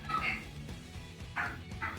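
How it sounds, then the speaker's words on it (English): Dogs bark in a few short bursts, fairly faint and distant, over a low background murmur with a pause in the middle. "And they're barking again."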